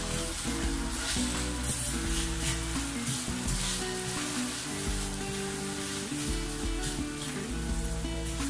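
Condensed milk poured onto fried vermicelli in a hot pan gives a loud, dense, continuous sizzle with stirring, and no voices.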